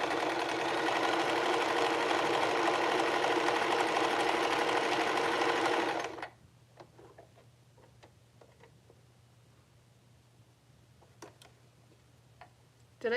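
A sewing machine stitching cosplay fabric runs loud and steady with a fast mechanical whir for about six seconds, then stops, leaving faint handling clicks in a quiet room.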